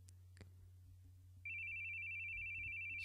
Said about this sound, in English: Oh, phone's going.